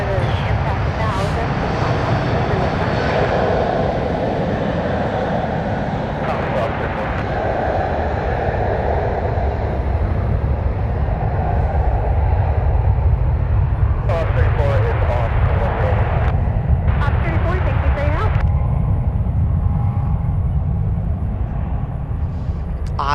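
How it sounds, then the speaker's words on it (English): A Boeing 747 taking off at San Francisco airport gives a steady, loud jet roar that persists throughout, with a person talking over it at times. "747 about to take off"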